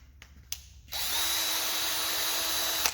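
A Craftsman 20V brushed cordless drill runs at its top speed, a steady, close motor whine with a high tonal hum, preceded by a couple of faint clicks before it spins up.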